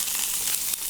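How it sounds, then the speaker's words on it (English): King mackerel cured in shio-koji sears on a hot surface in a Japanese kappo kitchen, giving a steady, loud, hissing sizzle that fills the moment without any voices. "So that sizzle is what you want, right?"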